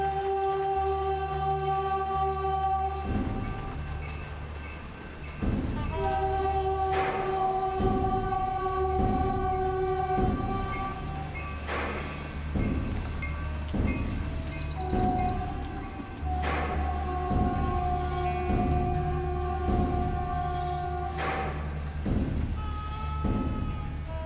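Steady rain falls throughout with a constant patter and low rumble, while sustained tones and occasional thuds come and go over it.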